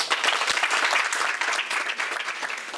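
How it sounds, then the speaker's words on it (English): Enthusiastic audience applause at a storytelling event, a dense steady wash of many hands clapping at close range for a few seconds, with no voices over it. "Give her another hand clap, please."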